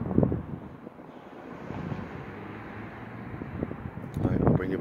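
Wind buffets the microphone on a sea fishing pier, a steady rushing roar with gusty bursts at the start and end, while someone talks over it.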